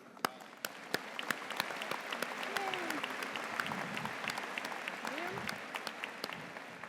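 A large crowd at a university commencement ceremony applauds the graduates with sustained, dense clapping, some sharp individual claps standing out and a few voices calling out.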